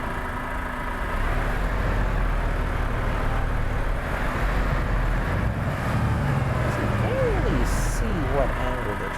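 Truck engine idling and rumbling while reversing with a trailer in Euro Truck Simulator 2, a steady low drone at moderate level, with a voice speaking over it toward the end.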